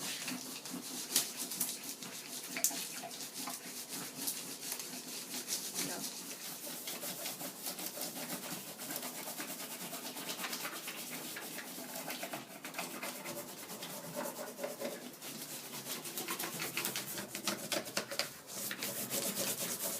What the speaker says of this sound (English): the way we're going to test that is to do leaf rubbing